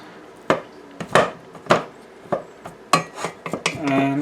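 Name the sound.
stirring and breaking apart food in a pot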